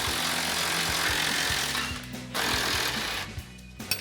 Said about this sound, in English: We're gonna grab our impact with an 18mm swivel socket on the head.